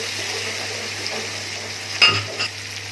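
Chopped green chillies sizzle steadily in hot oil for a stuffed karela keema dish, a close, even frying hiss with a brief clink of a pot or spoon partway through.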